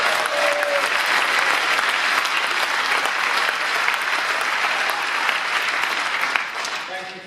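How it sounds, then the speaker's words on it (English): Audience applause at a rally, a dense, steady wash of many hands clapping that carries on for several seconds before starting to fade, with a voice briefly heard beneath it. "Thank you for the applause"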